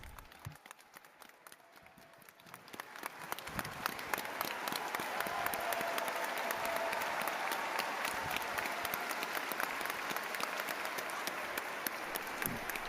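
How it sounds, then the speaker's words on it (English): Applause greets Pope Francis as he enters the Paul VI Hall for the Festival of Families at the World Meeting of Families in Rome. Scattered claps build into a large hall full of steady, reverberant clapping. "And we now welcome Pope Francis to the Paul VI Hall. Applause, please."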